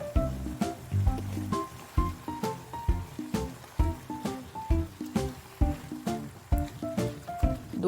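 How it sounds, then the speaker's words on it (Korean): Sliced pork bulgogi is tossed with sauce, onion and carrot in a pan, giving a rhythmic series of wet squishing, slapping strokes repeated every half second or so, close and moderately quiet. "양파, 당근을 넣고 섞고"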